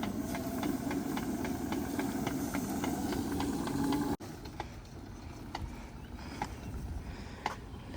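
A retractable metal garden hose reel winding the hose back in, a steady whirring, ticking clatter with regular clicks that stops abruptly halfway, followed by quieter scattered clicks and outdoor background.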